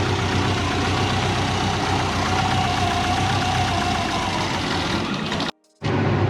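A turbocharged Subaru Forester engine idles while running rich, a loud, steady, rumbling drone heard up close that cuts out abruptly for a moment near the end before resuming.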